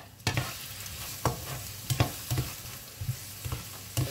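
Garlic and onion fry in olive oil with a soft steady sizzle, broken by sharp scraping taps of a utensil stirring the pan about every half second.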